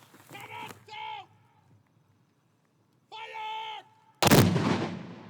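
Voices shout commands, followed by one heavy ceremonial cannon boom at a 9/11 memorial in Atlantic City that cracks loudly and decays into a lingering rumble.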